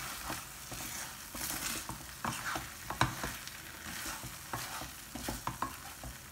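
Oats cooked with a dollop of ghee are gently stirred in a pan, giving a steady soft sizzle with scraping strokes and light clinks, close and continuous.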